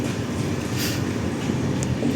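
At a Kerala railway station, the Kerala Express from Thiruvananthapuram Central to New Delhi gives off a steady, dense rumble of train noise for a couple of seconds.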